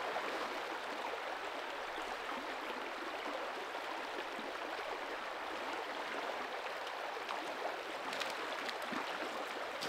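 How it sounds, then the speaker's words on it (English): Moving water in a deep pocket of a stream in the Canadian Maritimes, a steady, even rush and gurgle that carries on unbroken and fairly close throughout, with no voices. "Right behind me, there's a deep pocket of moving water"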